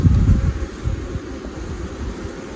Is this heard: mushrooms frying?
no